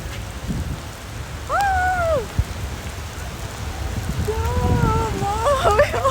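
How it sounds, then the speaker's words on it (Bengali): Steady rain patters nearby at night in Dubai while a voice exclaims a few times over the constant downpour. "আমি বৃষ্টিতে আমার ফোনও ভিজতেছে আমিও ভিজতেছি"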